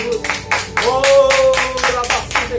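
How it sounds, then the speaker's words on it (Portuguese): A church congregation claps together in quick, steady rhythmic bursts, the applause loud and close and filling the room. "uma salva de palmas para Jesus nessa noite"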